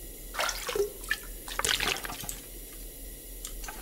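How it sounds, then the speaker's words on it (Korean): Water scooped from a toilet tank in the survival game The Long Dark, heard as a few short splashy sloshes and trickles alone over quiet background. "왜 변기물 뜨는 거야?"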